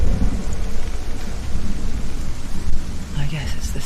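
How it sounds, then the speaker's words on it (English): Steady heavy rain pours throughout a stormy scene in the video game Hellblade, with low rolling thunder rumbling underneath. The sound is loud and continuous. "How there's always a storm? Like it's always raining in these games."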